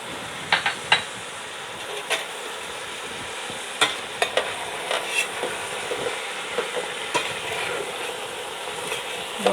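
A spoon stirs a pot of soup with trotters and mastic, scraping and clinking in scattered knocks over a steady soft hiss of simmering.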